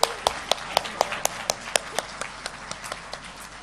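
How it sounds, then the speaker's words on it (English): Applause for speakers at an international holistic health conference, sharp individual claps landing in a steady rhythm, close and fairly loud, fading slightly toward the end. "Please keep applauding for them."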